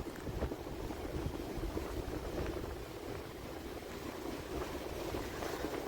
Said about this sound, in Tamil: இன்றைக்கு தான் இப்படி அடிக்குது பாருங்க அந்த அலையெல்லாம்